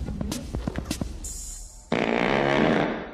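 A comedic film fart sound effect: a quick series of sputtering, popping bursts, then a longer, louder, buzzing blast that fades out at the end.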